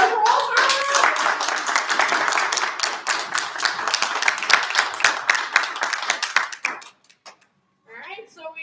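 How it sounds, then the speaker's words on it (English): A room of people at a 2022 spelling bee claps for a contestant, brisk individual claps forming a lively patter that thins out and stops near the end, followed by a brief moment of talk. "Round of applause for Walter."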